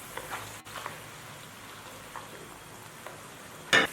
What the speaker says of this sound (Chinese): 加少许的白胡椒粉，再加韭菜头，翻炒均匀。